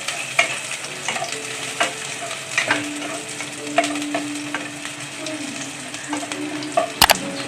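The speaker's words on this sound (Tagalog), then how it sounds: "In English, garlic and onion sauté." Garlic and onion sauté in oil in a pan for a sardine and glass-noodle dish, giving a steady close sizzle with spatula scrapes and small clicks as they are stirred throughout.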